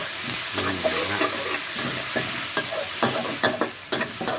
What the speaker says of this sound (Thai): เวลาเราผัด ใส่พริกลงไปเลยครับ พริกกระเทียม ผัดให้หอมเลยครับผม